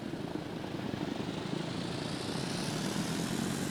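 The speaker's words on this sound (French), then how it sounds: "Et le moteur est démarré." Steady engine drone from a running vehicle engine in the video game Stormworks, just after start-up, with revs climbing toward a stable idle; a continuous low, even hum that stays loud throughout with no talk over it.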